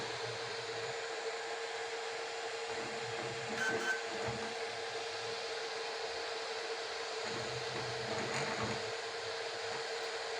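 Flsun Super Racer 3D printer at work, a constant high-pitched whine with faint clicks and short motor bursts recurring every few seconds.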